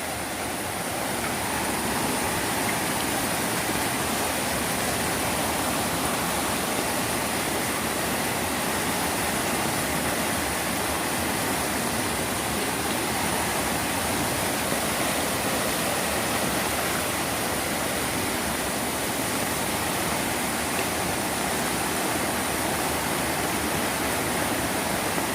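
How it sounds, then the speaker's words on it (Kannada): The Phalguni river in full flood rushes and pours past, a steady, loud, broadband roar of churning water that never lets up, with no voices over it. "ನೋಡಿ, ಇದು ನದಿ. ನೋಡಿ, ಫುಲ್ಲು ನೀರು."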